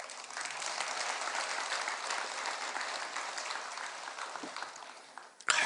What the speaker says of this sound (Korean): 박수 한번 쳐드리.